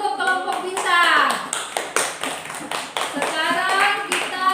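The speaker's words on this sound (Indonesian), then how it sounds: "Tepuk tangan dulu untuk kelompok bintang." Schoolchildren in a classroom clapping together for a group, rhythmic patterned clapping in short bursts with children's voices chanting along, close and fairly loud.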